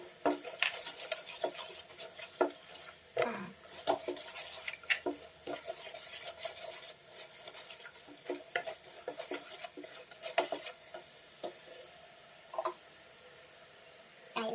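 Chicken drumsticks stir-fried in a pan for a Thai stewed chicken dish, with a spatula scraping and clanking against the metal in irregular strokes over a soft sizzle, close and fairly loud, ending in a short quieter stretch.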